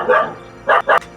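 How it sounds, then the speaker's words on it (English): A dog barks loudly and close by, three sharp barks in quick succession, one alone and then a quick pair, with no talk over them. "Guess the dog doesn't like this."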